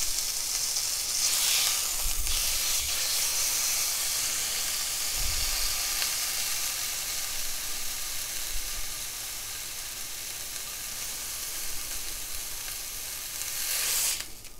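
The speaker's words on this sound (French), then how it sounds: "je vais venir marquer, rôtir la viande jusqu'à qu'elle ait une belle couleur" Beef searing in oil in a hot pan, roasted until nicely browned: a steady, loud broadband sizzle runs throughout, with a few low thumps as the meat is handled and a burst of hissing near the end.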